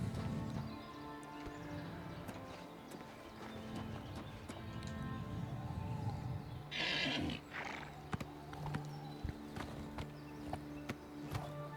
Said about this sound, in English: Alright, we have our third horse